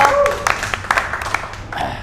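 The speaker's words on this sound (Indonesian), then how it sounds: "Tepuk tangan dong buat Dokter Setio." An audience claps for Dr Setio in a short, sparse burst of scattered hand claps. The claps land irregularly over background voices and room noise.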